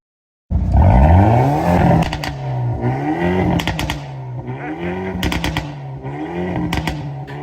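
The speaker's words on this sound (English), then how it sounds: "Talking about the i30's performance exhaust system, I want you to listen to this. All you gotta do is to press the N mode and then the NGS button." Hyundai i30N performance exhaust in N mode with the NGS button engaged, starting abruptly and loud, then rising and falling through repeated revs with sharp crackles and pops between pulls, close up and without talk.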